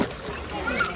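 Water splashes briefly as someone swims, a short close burst of sloshing with a voice faintly mixed in.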